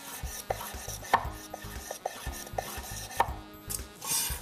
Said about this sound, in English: we're actually gonna slice this on a bias for presentation